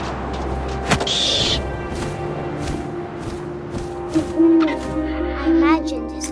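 An owl hoots in the game What Remains of Edith Finch, a few short calls over a steady windy, rumbling ambience with faint background sounds.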